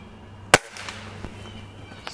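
A single sharp crack from a pellet rifle being fired while dieseling, close and abrupt, followed by faint room echo and a quiet low hum.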